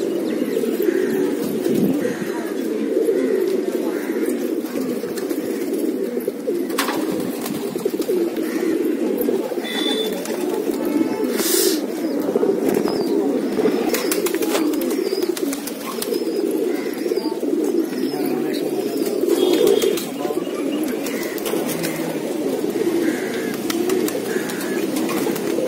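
Pigeons kept by a hobbyist cooing nonstop, a dense low throaty murmur from several birds close by, with occasional chirps and faint wing flaps over the steady drone.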